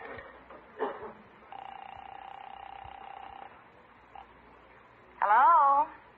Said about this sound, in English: I better phone Irene and tell her what's cooking